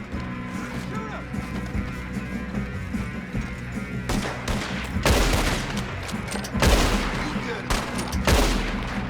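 Rapid volleys of gunfire in a Red Dead Redemption 2 shootout, loud bursts over a constant game soundscape of music and ambience, with a brief spoken line in between.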